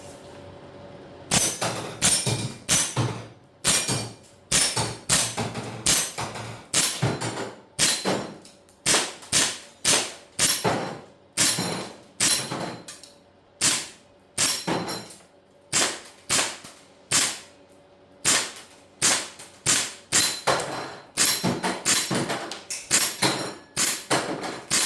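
Gas blowback airsoft AK rifle firing outdoors at targets in cold weather: a long run of sharp cracking shots, single and in quick bursts, steady and close for the whole stretch with short pauses and no talking.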